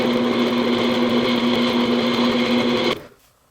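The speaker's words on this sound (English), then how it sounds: "So I'm going to drill these 4 holes, and they're going to get drilled until they just enter this groove that we just finished chiseling." A power drill boring small holes into the bridge of a handmade cigar box ukulele, running as one steady, close whine for about three seconds before cutting off abruptly.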